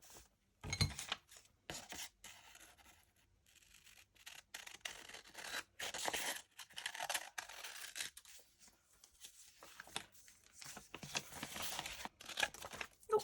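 Scissors cutting through paper envelopes, a run of irregular crisp snips and rustling paper bursts at close range, some sharp and separated, others clustered, with short quiet gaps between.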